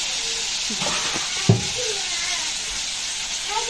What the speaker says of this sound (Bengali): ডাটা আলুটা ভেজে নিচ্ছি।